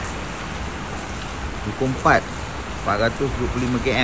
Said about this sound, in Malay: Aduh, hujan daripada tadi ya.